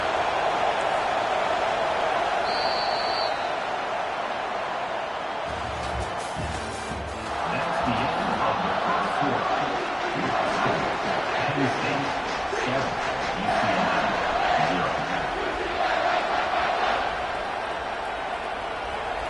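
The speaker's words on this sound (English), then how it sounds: "Decibels rising as the crowd gets behind this defense on 3rd down." A football stadium crowd at a Penn State vs UCLA game roars on third down in a steady, swelling wash of noise, with commentary heard over it.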